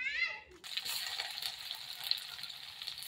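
Chopped tomato and spices sizzle in a pan for a fried cabbage dish, a steady hiss rising after a brief spoken word at the start, close and moderately quiet.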